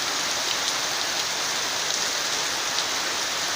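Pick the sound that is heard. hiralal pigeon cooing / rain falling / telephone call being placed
rain falling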